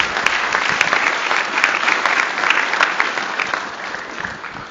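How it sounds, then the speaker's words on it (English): Conference audience at a LISA18 talk breaks into steady, dense applause, many hands clapping continuously at an even level from start to finish with no talking on top. "Let's give a round of applause."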